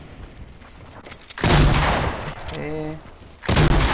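Shotgun blasts in a Fortnite Battle Royale match, loud booming shots with a sustained burst of gunfire and game effects, while a player briefly speaks over it.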